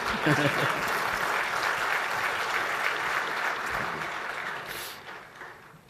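Audience applause at a national project management conference hall, dense clapping that holds strong and then tapers off toward the end, with a few voices faintly mixed in.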